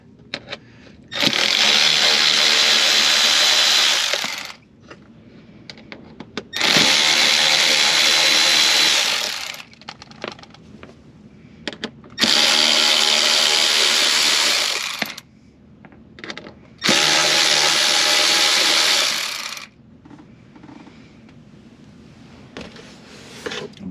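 A power drill driving small T20 screws on a 2022 Ford Explorer whirs in four separate bursts of a few seconds each, with short quiet gaps and faint handling noises between them.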